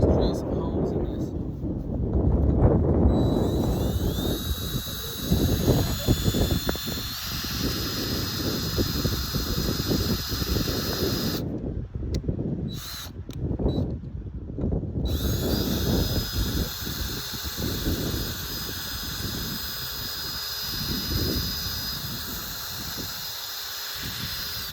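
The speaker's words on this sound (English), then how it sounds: "All right, so let's drill some holes in this." A power drill whines and grinds steadily into a steel shooting target, with high squealing tones from a dull bit and brief pauses between bursts, close and loud throughout.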